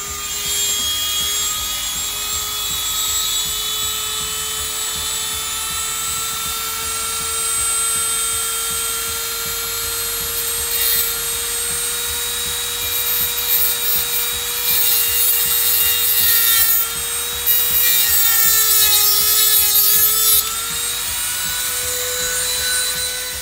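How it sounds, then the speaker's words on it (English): Dremel rotary tool cutting a notch into a stripped hex screw on an Arrma RC car, a steady high-pitched grinding whine running continuously and close up, with its pitch dipping slightly near the end. "I'm gonna Dremel this notch into this without damaging anything"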